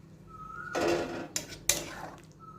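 Rinse water from a washed mixer-grinder jar is poured into a cooking pot: a few short close splashes mixed with clinks of the jar against metal, separated by quiet pauses.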